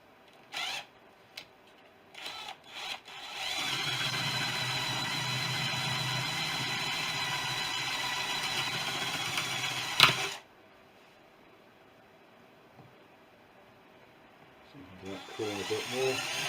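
A 1/2 inch brad bit bores a hole through a wooden wing spar, a steady drill whine running for about seven seconds and cutting off abruptly, with brief knocks before it and quiet handling afterward.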